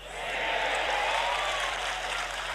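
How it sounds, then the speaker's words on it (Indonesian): Sustained applause from a large audience at an Indonesian Islamic sermon by a popular ustadz, a broad even wash of clapping that swells in and holds steady throughout. "Oh, tepuk tangannya bukan main lagi."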